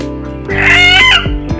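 Domestic chickens cluck and squawk close by, a short burst of raspy, rising calls followed by a few lower clucks.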